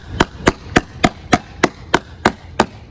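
A flat-faced hammer strikes a Tesla Model 3 or S rear corner window covered in protection film, nine sharp, evenly spaced knocks close up, with no cracking sound and no talking.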